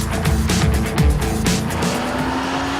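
A Porsche Cayman S with PDK gearbox is driven hard on a narrow country road, its engine revving loudly through quick gear changes, with tyres squealing through fast corners.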